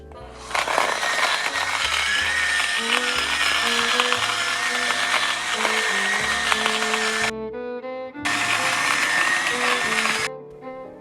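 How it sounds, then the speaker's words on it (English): An electric coffee grinder grinds whole coffee beans in two loud, harsh whirring bursts: a long run of about seven seconds, a short pause, then a second two-second burst, with background music underneath. "We're going to put it through this coffee grinder."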